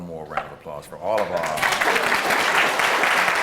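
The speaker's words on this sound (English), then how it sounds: "So let's have one more round of applause for all of" Someone speaks briefly before audience applause swells in at a book awards ceremony, the clapping rising quickly and holding steady.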